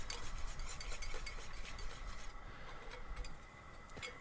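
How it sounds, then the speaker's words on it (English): Butter and flour roux stirred steadily in a pan on a smoker, giving continuous scraping and swishing with faint sizzle and occasional utensil clicks, fairly quiet and with no talk. "when you're making your roux, you want to make sure you're stirring it constantly"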